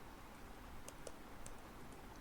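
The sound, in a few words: computer keyboard typing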